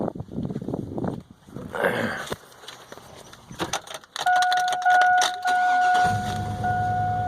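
A GM truck engine cranks and catches, settling into a steady running idle close by, preceded by some jangling and clicks of handling.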